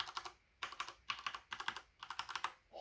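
Steady bursts of typing on a mechanical keyboard with foam underneath, quick clustered keystrokes in short flurries separated by brief pauses, close and clear with no voices.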